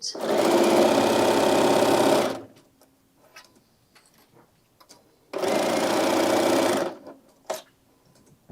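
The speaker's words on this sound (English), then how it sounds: "the Berninas sew really well with these thicker layers" Bernina sewing machine stitches through thick layers of a tote bag in two sustained runs of steady, fast whirring, each about two seconds long and loud and close, separated by a quiet pause with light handling noises.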